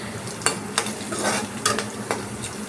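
Powdered curry leaves hit hot oil in a pan for a beetroot poriyal, giving a steady sizzle broken by several sharp stirring scrapes and clinks of a spoon against the pan, close and fairly loud.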